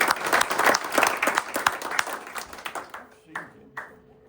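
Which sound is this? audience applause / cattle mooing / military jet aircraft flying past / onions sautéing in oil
audience applause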